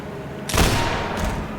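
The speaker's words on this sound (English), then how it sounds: "I tried to shoot Gman." Gunfire aimed at G-Man in the video game Half-Life: a sudden loud burst of shots erupts midway and rumbles on, followed by a second, fainter volley near the end.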